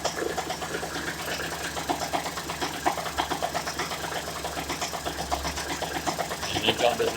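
A small engine idles steadily with a little throttle held open, a close, continuous buzzing with rapid even pulses and slight rises in pitch, while someone talks over it.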